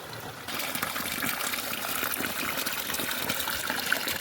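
Water gushes steadily into a container, a continuous close pouring rush that begins abruptly after a brief quiet moment, outdoors in a Himalayan hill village before a day of grass cutting.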